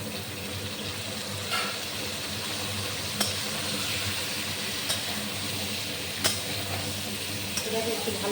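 Soya chunks frying with already fried potatoes in a pan, a steady loud sizzle with occasional clinks of stirring, no talk.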